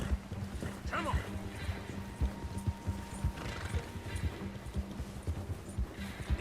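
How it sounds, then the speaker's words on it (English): Rhythmic hoofbeats of a horse galloping in the Red Dead Redemption 2 video game, steady and close, with game ambience and people talking over them. "Horse is not very fast."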